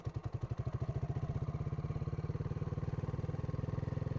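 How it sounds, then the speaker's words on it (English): A motorcycle engine chugs in a fast, even pulsing rhythm, close and steady, as the bike is started and eased away in first gear. "pull the clutch, turn the kill switch off, start bike. Now put into first gear, slowly release clutch and increase throttle a little bit"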